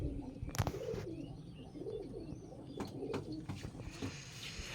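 A female Lalpori pigeon coos close by in a series of soft, rolling low calls. Faint chirps and a few sharp knocks sound in the background.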